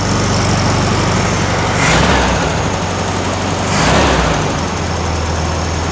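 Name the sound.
1964 VW Beetle 1600cc dual port engine idling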